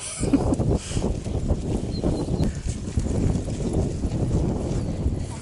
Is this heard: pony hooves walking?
yes